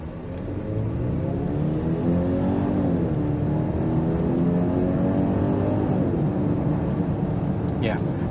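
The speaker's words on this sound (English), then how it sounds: "Let's see how it accelerates." A 2023 Genesis GV80 2.5T SUV accelerates, its engine note rising steadily through shifts under continuous loud road and cabin noise, heard from inside the vehicle with no talking.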